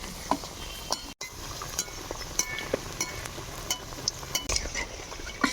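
Oil sizzles steadily with scattered crackles and pops as pitha cakes fry, close by, with occasional faint clinks of a utensil.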